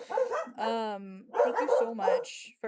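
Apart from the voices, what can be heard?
dogs barking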